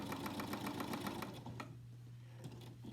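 A sewing machine runs in a quick, even stitching rhythm while binding the edge of a fabric face mask, then slows and stops, close and fairly soft.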